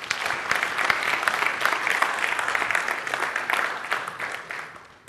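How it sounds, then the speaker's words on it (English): An audience at a talk claps steadily for several seconds, a dense sustained applause that thins out toward the end. "please give a warm round of applause"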